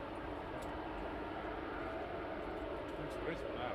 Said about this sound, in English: GYRTE helicopter on approach.